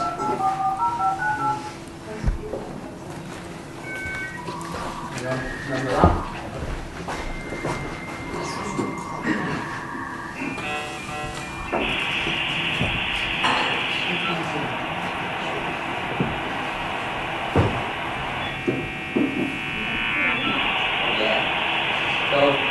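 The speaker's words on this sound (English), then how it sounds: "But this was actually the 56k modem sound." A dial-up modem connects: dialing tones, then warbling handshake beeps and a harsh, steady screech. A voice speaks briefly over it.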